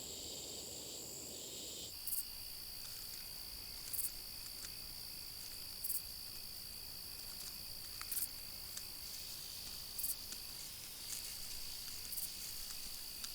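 Grasshoppers and locusts chirp in Middle Eastern midday heat: a continuous high, steady buzzing drone with regular pulses roughly every two seconds over faint background hiss, no voices.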